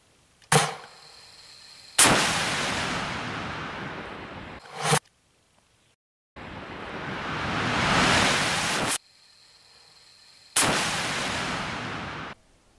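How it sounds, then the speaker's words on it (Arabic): TOW missiles are launched at a 23 mm machine gun in Latakia, each firing a sharp crack followed by a long, loud roaring rush that holds for several seconds, repeated three times with brief gaps. "استهداف رشاش 23 بصاروخ تاو"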